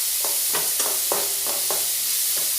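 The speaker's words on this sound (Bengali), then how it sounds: "এই পেঁয়াজগুলো খুব ভালোভাবে ভেজে নেব।" Salted onions frying in a pan, with a steady sizzle broken by several soft, rhythmic scrapes and stirs of a spatula, close and moderately loud.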